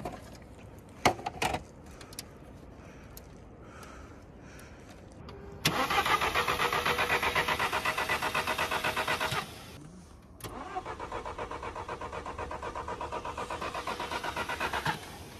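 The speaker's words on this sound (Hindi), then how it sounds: "गाड़ी स्टार्ट हो गई है हमारी" A car engine on a Ladakh mountain road cranks a few times, then catches and settles into a steady idle. It stops briefly, restarts and keeps idling, close and clear.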